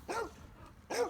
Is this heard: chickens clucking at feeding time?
no